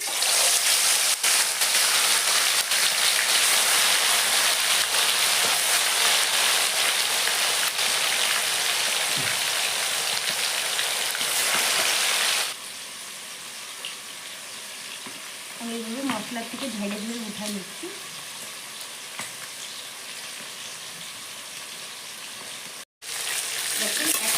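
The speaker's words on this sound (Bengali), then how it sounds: "চিকেনটা এরকম কিছুটা ঝেড়ে ঝেড়ে আমি তেলে ফ্রাই করে নেব তেলটা গরম হয়ে গেছে" Chicken pieces, shaken off, fry in hot oil with a loud, steady, close sizzle for about half the time, then the hiss drops to a quieter simmer with a few brief clatters and faint sounds like a voice.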